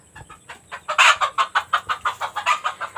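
A hen clucks loudly and rapidly after laying an egg, a close, rhythmic series of about fifteen sharp squawking pulses with no talking.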